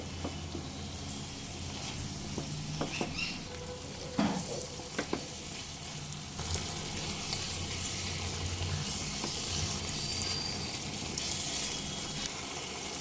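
Spinach and chicken keema stir-fried in a pan over medium flame, a soft continuous sizzle with a few scattered spoon scrapes, fairly quiet throughout.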